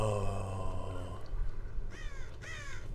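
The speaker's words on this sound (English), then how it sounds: "The crows are actually really fucking loud in my ear." Crows cawing loudly in the video game Dead by Daylight, two harsh close caws in quick succession toward the end over a low rumbling game ambience.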